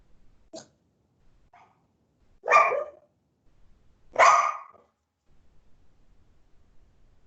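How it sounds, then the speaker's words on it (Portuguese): Female dogs bark indoors: a couple of short, sharp barks spaced a few seconds apart, close and fairly loud, with faint yips between them against quiet surroundings. "Minhas cachorras estão querendo falar aqui também."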